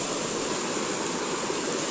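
A clear river stream flows near a large boulder in Cianjur, a loud, steady broadband rush of water with no voices.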